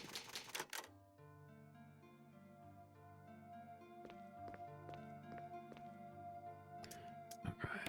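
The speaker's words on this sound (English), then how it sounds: "You click on the typewriter." Typewriter save sound in Resident Evil Remake: a series of crisp key clacks strikes over a sustained low musical drone, with a brief noisy burst at the start and again near the end.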